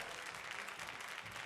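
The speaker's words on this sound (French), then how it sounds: "Merci pour vos applaudissements" A crowd claps steadily throughout, a dense, even patter of many hands at moderate distance.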